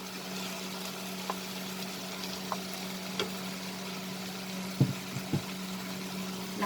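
Green chilies and fried potatoes for a prawn keema sizzle faintly and steadily in a pan, a low constant hiss broken by a few soft scraping knocks and stirring clunks near the end.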